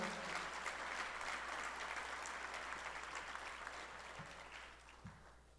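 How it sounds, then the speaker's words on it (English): An audience at a community safety meeting applauds in a dense, sustained wash of clapping that gradually fades over several seconds, heard from a moderate distance in a large room. "So give ourselves all a round of applause for doing the hard work to get us here."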